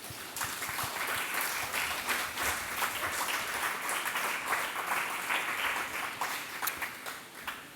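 A church congregation claps in a sustained, fairly loud wash of applause, with slightly uneven rhythm toward the end and no clear voices.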